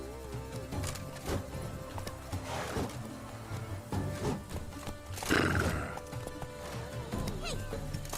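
Roach the horse galloping in The Witcher 3, steady hoofbeats drumming under game music with a whinny and a louder burst of movement midway.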